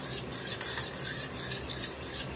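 A rosemary and cinnamon glazing mixture for oven-roasted brisket being stirred in a bowl, soft continuous rubbing and scraping strokes in a quick rhythm, close and fairly quiet.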